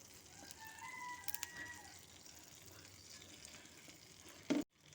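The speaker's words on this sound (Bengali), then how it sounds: "গরম হয়ে গেছে এখন এটার মধ্যে দিয়ে দেব বাটারটা বাটার মেল্ট হোক এই ততক্ষণে আমি দিয়ে দেব দারচিনি আর লবঙ্গটা ফোড়ন" Butter melting in a hot pan with cinnamon sticks and cloves added for tempering, making a soft, steady frying sizzle with a few brief clinks, ending in a sudden loud knock and a cut to silence.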